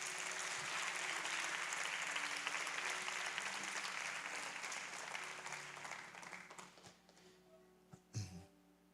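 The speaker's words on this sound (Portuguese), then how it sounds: "Vamos aplaudir o Senhor por isso." A church congregation at a youth worship service applauds in a dense, sustained wash of clapping that fades out toward the end, followed by a few scattered sounds.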